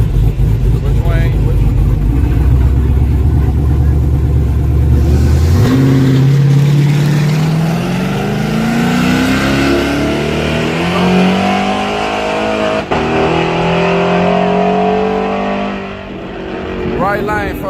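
A drag race car with an LT4 engine roars loudly nearby, holding a deep idle before surging into a long, rising acceleration as it pulls away, with voices talking over the engine.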